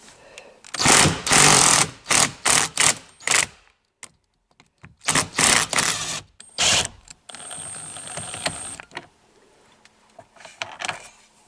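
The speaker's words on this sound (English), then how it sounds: "Using a 10 millimeter socket and impact wrench, we can go ahead and remove this mounting bolt." An impact wrench with a 10 millimeter socket removes a steering wheel mounting bolt on a Dodge Charger, loud close bursts of rattling hammering separated by short pauses, then a thinner whirring spin.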